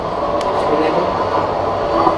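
A train in GTA 5 rumbles past in a steady, loud drone.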